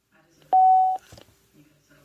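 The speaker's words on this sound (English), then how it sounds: "by pressing next until you hear a beep" A device gives one short, clear electronic beep when its next button is pressed, followed by faint clicks and a little background sound.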